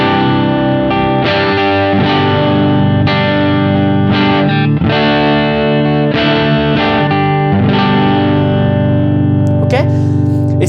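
An electric guitar plays through a RHPF Mosphoros overdrive pedal with the drive at noon and the bass at zero, strummed distorted chords ringing loudly with repeated attacks; a voice talks over the playing.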